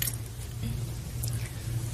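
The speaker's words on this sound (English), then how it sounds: "The exchanging of the keys." A bunch of truck keys jangling as they are handed over in a courtroom, a short light metallic rattle in two or three small bursts over a low room hum.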